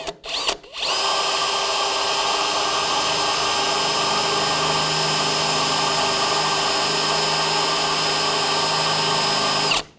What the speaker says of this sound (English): Now I need to drill out all these pinch welds right along this right here.